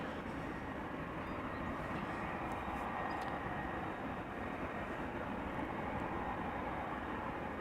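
Garuda Indonesia airliner in retro livery at Amsterdam Schiphol Airport, a steady broadband engine roar that holds at an even level throughout with no talking.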